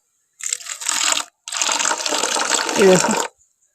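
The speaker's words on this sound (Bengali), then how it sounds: "এর মধ্যে আমি জলটা দেবো ওই গর্ততে" Water is poured into a hole made in a pot of cooked rice in two close bursts of splashing, a short one followed by a longer pour, near and fairly loud, with no voices.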